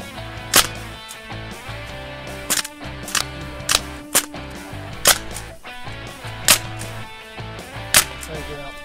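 SIG MCX airgun running on a regulated high-pressure air system, firing sharp, close cracking shots at irregular intervals, about nine in total, over a low background hum.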